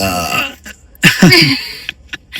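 A person lets out a loud, throaty burp, a rough guttural belch that rises suddenly and trails off into short clicks and breaths, heard up close and alone.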